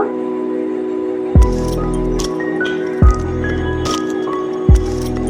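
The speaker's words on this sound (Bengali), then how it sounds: "এর মধ্যে আমি ভেজে রাখা সবজিগুলো দিয়ে দেব।" Fried vegetables drop into a pan of cooked-down tomato masala, giving three heavy, wet thumps spaced a second or two apart, followed by soft squishing and light clinks of a utensil.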